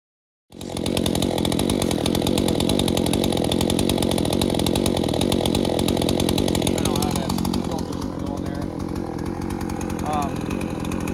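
A ported Husqvarna 543xp chainsaw engine starts and runs, a loud, close, continuous high-revving buzz that steadies and shifts pitch slightly partway through as the throttle changes, with no voices over it.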